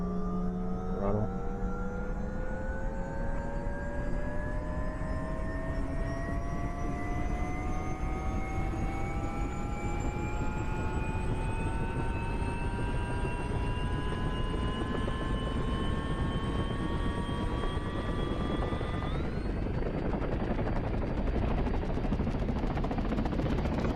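A propeller aircraft engine in the DCS flight simulator spins up. A rising whine climbs steadily for about twenty seconds, then settles into a constant running drone under a broad, continuous roar.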